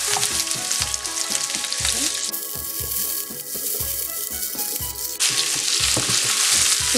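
Chopped onion and sweet pepper fry in hot oil in a pan, a steady close sizzle with rhythmic scraping and tossing strokes from stirring. The hiss dips briefly in the middle and then surges back louder.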